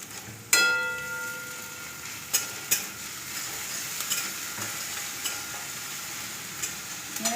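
Ginger tossed into a pan of frying onions and garlic: a sharp metallic clank opens, then a steady sizzle runs throughout, with occasional spoon scrapes and taps against the pan.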